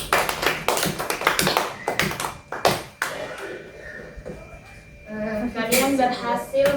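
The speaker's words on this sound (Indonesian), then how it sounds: "Baik, tepuk tangan dulu." Students in a classroom microteaching session clap their hands in a short, uneven burst of sharp, close claps that fades out, followed by people talking.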